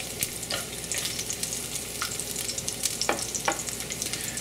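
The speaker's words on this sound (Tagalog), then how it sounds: "At igigisa na natin yung bawang at yung sibuyas. Ito na yung ating dinikdik na bawang." Crushed garlic sizzles in hot cooking oil in a cooking pot, a steady close frying crackle with a few sharp spoon scrapes and clinks as it is stirred.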